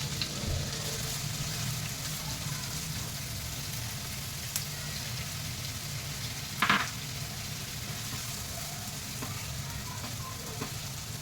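Onions sizzle in about three tablespoons of hot oil in a kadhai for egg bhurji, a steady soft crackling hiss with a brief stirring clatter midway.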